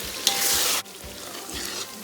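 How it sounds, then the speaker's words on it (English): Garden egg, eggplant and okra frying in oil for a spicy Gambian fish stew, a close, steady sizzle with a brief louder burst of hiss near the start, no voices. "Okay, our frying is almost done now"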